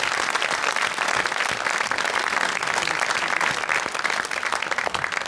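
Studio audience applause greeting a guest on a comedy TV show, dense steady clapping from a crowd, loud and continuous with no talk over it.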